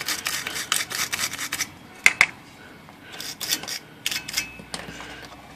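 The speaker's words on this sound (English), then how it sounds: "we'll just give it a little scrape here" Scraping corrosion off the battery contacts inside an IBM Wheelwriter typewriter: short, close, gritty metal-on-metal rasps in uneven bursts, with a couple of sharp clicks partway through.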